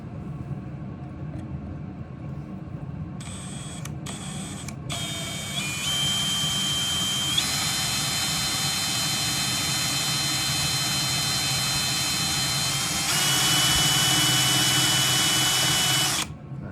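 A power drill bores through a chainsaw coil mount on a Homelite chainsaw being fitted with a Husky coil, using a 3.3 mm bit ahead of an M4 tap. A few short trigger bursts give way to a long steady high whine that climbs in pitch near the end.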